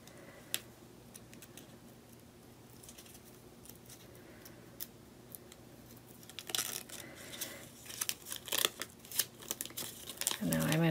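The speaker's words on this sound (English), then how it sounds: "we're going to take the paper off the entire back" Paper backing peeling off a thick adhesive suede sheet for a no-sew hummingbird suncatcher, heard as crinkly tearing and crackling bursts that grow louder and busier in the second half, close to the microphone with no talking.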